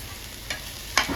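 Momo filling with sauce being stirred in a hot pan, a steady sizzle with two quick spoon scrapes close by, brief and without talk.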